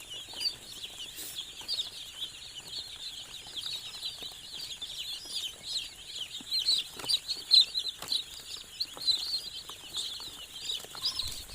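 A flock of day-old broiler chicks peeps constantly, a dense, high, overlapping chorus of chirps filling the space at moderate loudness with no voices.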